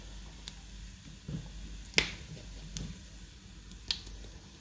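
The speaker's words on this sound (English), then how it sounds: "once you hear it, the mustard seeds bursting, then you know it's kind of ready." Mustard seeds in hot oil give sparse, sharp little pops and crackles, a handful over a few seconds, faint and close over a low background hiss.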